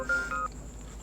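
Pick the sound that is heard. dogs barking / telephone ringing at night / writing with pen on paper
telephone ringing at night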